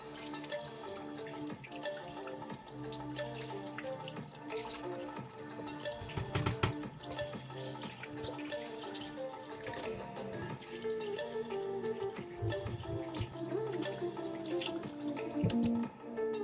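Tap water runs steadily over rice in a sink for its final rinse, a continuous splashing and dripping wash heard up close over a dense musical backing, with no talking.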